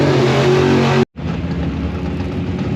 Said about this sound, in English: Motor sounds killer though.